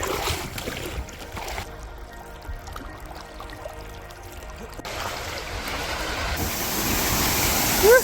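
Steady rushing water of a waterfall in Nitmiluk Gorge, Northern Territory, Australia, roars throughout, swelling louder toward the end like churning whitewater.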